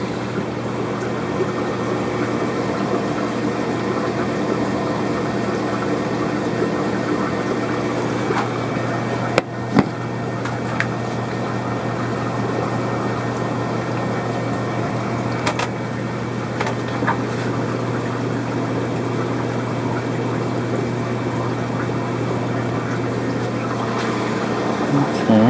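An aquarium air pump runs in a jellyfish tank with a continuous low hum and a soft watery hiss, steady throughout with a few faint clicks.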